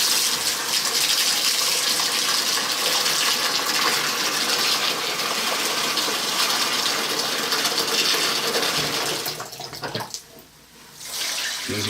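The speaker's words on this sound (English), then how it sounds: "now we're going to put some fresh water in there and start rinsing that out" Fresh water gushes steadily into a rotary tumbler separator while brass is rinsed, a loud continuous running-water rush that cuts off abruptly near the end, leaving a brief quieter gap before the flow resumes.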